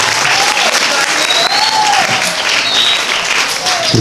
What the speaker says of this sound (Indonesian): Tepuk tangan untuk Kepala Madrasah yang baru.